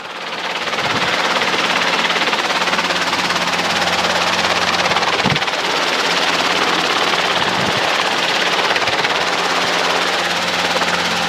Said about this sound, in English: trying to keep the helicopter from moving a whole bunch